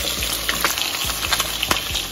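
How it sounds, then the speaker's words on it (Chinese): Pork ribs sear in a pan over high heat, giving a steady close crackle and sizzle with small pops and spits throughout, and no voices. "们先把排骨煎一下， 大火煎一下"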